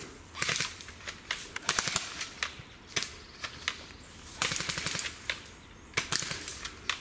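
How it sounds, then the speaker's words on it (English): Airsoft guns fire in sharp, snappy bursts, clusters of rapid cracks separated by short pauses, fairly close and crisp across the whole stretch. "Kind of taking some blind shots right now"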